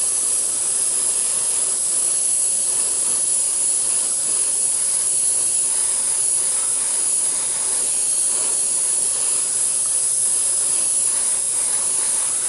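An airbrush sprays light weathering coats onto a Union Pacific SD70 model locomotive, giving a steady, even airy hiss that runs unbroken and fairly close with no talk over it.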